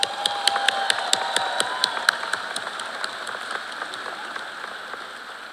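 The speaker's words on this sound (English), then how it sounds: "In fact, give yourself another round of applause." Sparse, crisp individual claps from graduates at a law school commencement ceremony, scattered and steady rather than a dense roar, thinning slightly toward the end with no talking over them.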